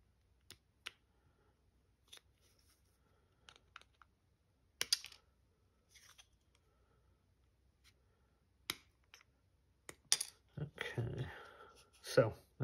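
Scissors snipping a plastic part for a 1/400 scale S.S. United States ocean liner model, sparse small close clicks and snips scattered through quiet, with a busier cluster of handling noise near the end and no talking.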